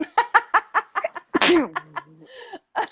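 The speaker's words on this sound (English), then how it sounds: "I'm getting ready to sneeze" A person laughs in quick rhythmic bursts, then lets out a single loud sneeze followed by a trailing vocal sound.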